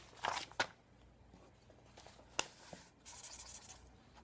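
A pen scratches across thick glued paper in a few short strokes, with soft rubbing and a quick flurry of scribbling toward the end, close and quiet.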